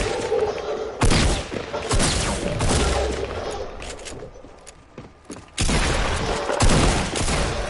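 Fortnite gunfire: rapid bursts of shots in loud, dense volleys separated by short lulls, close and harsh, with no voices.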